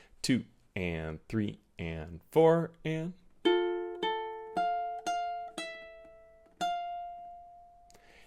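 Measure 11 of a song on ukulele: after a spoken count-in, a series of single plucked notes ring out one by one in even time, ending on a longer sustained tone.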